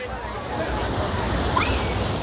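Sea waves surge at high tide on Digha beach, a steady broadband wash of surf rolling in continuously, with wind buffeting the microphone.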